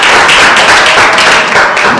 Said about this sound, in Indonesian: kita kasih tepuk tangan yang luar biasa untuk kelompok 4 untuk presentasi